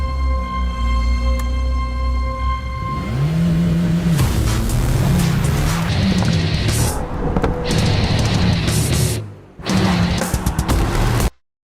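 A Mercedes-AMG GT Black Series with a flat-plane-crank engine idles loudly, then revs hard through rising and falling bursts, with a brief cut before one more loud surge.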